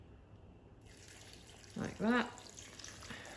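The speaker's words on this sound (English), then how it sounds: "I'm just going to add the boiling water directly from the kettle" Boiling water poured from a kettle into the jug of a Ninja soup maker, a short liquid splash after a quiet moment, followed by a few spoken words.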